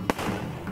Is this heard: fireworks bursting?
yes